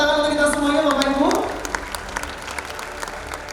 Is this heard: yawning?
no